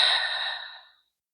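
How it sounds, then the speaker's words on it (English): A single deep breath during a yoga session, a close, airy exhale that trails off into silence after about a second. "One more deep breath in here."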